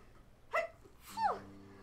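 A person sneezes twice, a quick soft burst followed by a louder, longer sneeze with a voiced tail, recorded close and fairly quiet with no other sound nearby.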